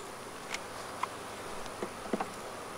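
Honey bees humming around a hive box filling with honey, a faint steady drone with a few brief closer buzzes, no talking.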